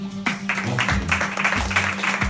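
An audience at a beat contest claps after the fourth finalist is named, steady clapping over a looping low beat.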